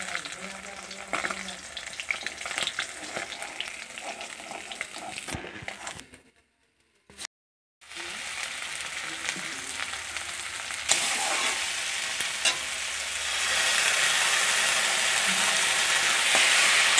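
Fish curry with tomato sizzling and frying in a pan, a steady close hiss with faint stirring, broken by a brief silent gap before the sizzle returns louder and brighter.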